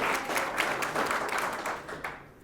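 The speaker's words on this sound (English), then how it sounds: "I like applause, but I prefer laughter." A comedy-show audience applauds, a brief burst of many hands clapping that holds fairly even before thinning out at the end.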